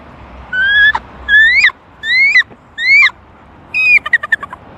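A man imitates a bald eagle call with a series of rising, squealing whistled notes, five close bursts ending in a quick stuttering trill, loud and alone.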